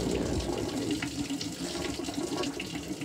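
Water draining out of a Maytag washing machine holding a kitchen cloth, a steady, close gushing and splashing flow that continues evenly throughout without talk.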